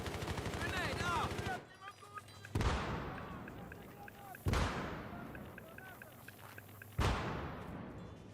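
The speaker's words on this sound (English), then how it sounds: "Grenade out!" Grenades in Battlefield 3 on PS3 go off as three sharp, heavy blasts, each followed by a long rumbling decay, in a multiplayer Conquest match with distant gunfire and brief voice chatter before the first blast.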